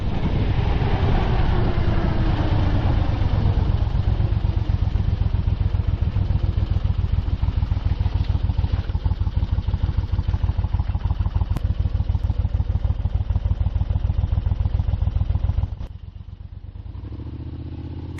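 A 1977 Moto Guzzi Convert automatic motorcycle engine running on a backroad, a loud, close, steady rapid thumping beat with mechanical clatter that cuts to quiet near the end.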